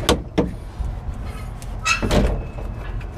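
The doors of a refrigerated trailer clank and bang open in a few sharp metallic knocks, with scraping and rattling between them, heard close up outdoors.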